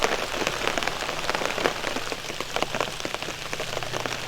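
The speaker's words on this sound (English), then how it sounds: "It's been raining for a few hours now. Nothing I would classify as heavy, but a good solid rain." Steady, fairly heavy rain drums on a tent at night, a dense continuous patter with scattered louder drops close by and no voices.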